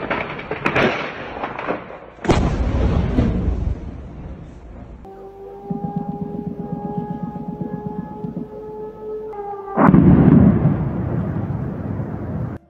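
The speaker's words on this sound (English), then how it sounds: "The explosion was captured on cell phone cameras." Several loud, sharp booms from a war explosion involving Russian-made drones, in the Kherson direction in Ukraine, burst out at a distance, separated by a steady mechanical drone with tonal whine, then another heavy blast.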